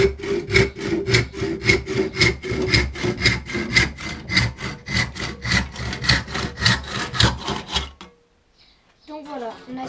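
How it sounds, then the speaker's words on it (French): Hand saw cutting a small piece of wood, loud rhythmic back-and-forth rasping strokes about two per second, close up for eight seconds before stopping, followed by faint handling. "on a scié notre bout de bois"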